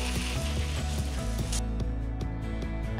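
A bicycle freehub ratchet clicks rapidly and loudly up close during a bike wash, in bursts of fast ticking as the wheel spins, with a hiss of water spray briefly rising partway through.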